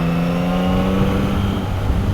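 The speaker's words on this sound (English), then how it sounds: "Just use the quick shifter here now." Yamaha MT-09 (2023) motorcycle engine, heard during a quick-shifter gear change on a test ride: a steady, loud engine drone with humming harmonics and a brief dip in pitch partway through.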